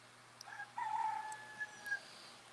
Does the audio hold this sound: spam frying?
no